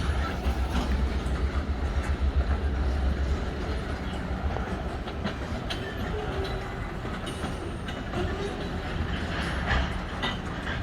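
Loose railcars rolling freely through a hump yard in Southwest Montreal, with a steady low rumble, rattling and clacking, and occasional faint squeals over continuous broadband noise.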